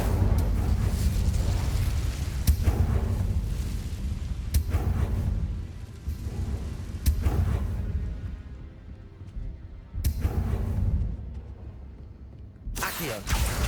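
Incendio fire spells burst repeatedly in Hogwarts Legacy, sharp whooshing blasts with crackling flame tails, spaced a couple of seconds apart over a low rumbling background.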